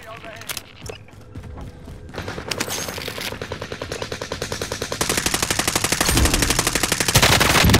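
Rapid automatic gunfire from a video game shooter, bursts building into near-continuous loud machine-gun rattling that grows denser and louder toward the end, with a voice talking briefly early on.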